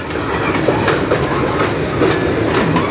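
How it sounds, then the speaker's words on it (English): A long industrial freight train of around 100 cars rolls past nearby, its wheels clacking rhythmically over the rail joints amid a loud, steady metallic rumble. "this is a pretty decent size industrial train"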